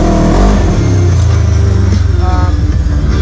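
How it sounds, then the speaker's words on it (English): A UTV with a very loud exhaust rumbles while riding, a close, steady low engine roar with slight revving swells over a few seconds and no clear talk. "This exhaust is really loud."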